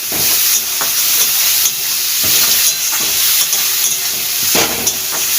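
Ginger garlic paste fries with mushrooms in a pan, producing a loud, continuous sizzle broken by periodic scraping stirs of a spoon against the pan.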